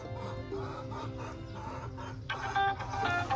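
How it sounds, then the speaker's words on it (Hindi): A rooster clucks repeatedly in a farmyard where a chicken cage is being set up, its calls layered over steady background noise, with a louder burst of clucking near the end. "हमारा पहला मुर्गा एंट्री मार गया।"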